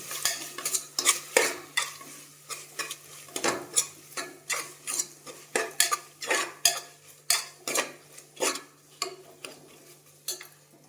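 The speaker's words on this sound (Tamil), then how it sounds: "இஞ்சி பூண்டு பேஸ்ட் போட்டுக்கலாம். நல்லா வதக்கிக்கணும்." Onions sautéing with ginger garlic paste in a home kitchen pan, stirred with repeated scraping strokes of a spoon against metal under a soft steady sizzle, close and moderately loud, with no talking.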